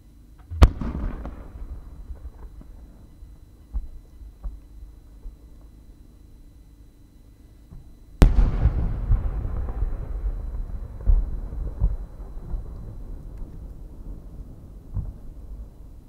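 Fireworks from Haga Fireworks at the winter Omagari fireworks festival: a sharp single burst near the start, then a loud explosive boom around the middle followed by sustained crackling and rumbling shells, with no talk.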